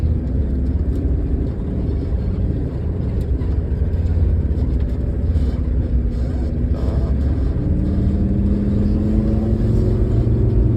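A car engine drones steadily and close as a teenage learner driver accelerates, its pitch rising gradually in the later seconds, with rumbling road noise throughout.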